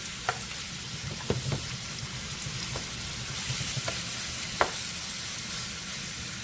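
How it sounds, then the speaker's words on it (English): Pork sizzles steadily in a hot pan for curry, a dense continuous crackle with a few sharper pops and spits scattered through it, close and even in level, with no talking. "we're just gonna let this fry a little bit and catch a little color"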